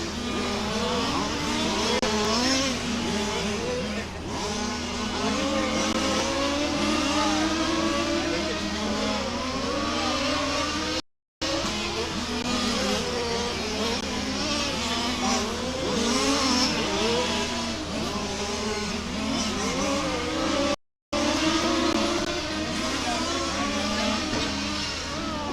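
Race cars circulate at the Warm Springs circuit during a RAMS FG Supply Series race, engines revving, shifting and whining as they pass close and steadily, with a voice talking over the engine noise.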